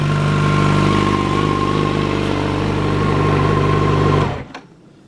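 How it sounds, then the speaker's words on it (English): A motorcycle fitted with an HP Corse exhaust, baffle in, idles with a steady, throaty rumble close by, then cuts off abruptly after about four seconds, leaving near silence. "I hope you'll agree that HP Course exhaust sounds absolutely phenomenal"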